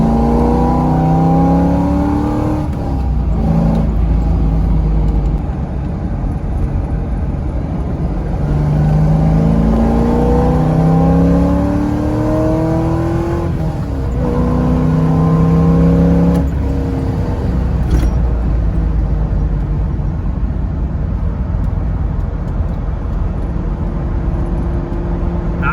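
A 2004 Corvette Z06 with intake, headers and a tune roars on a dyno, its engine rising through repeated long revving sweeps, loud and close with a steady mechanical drone underneath.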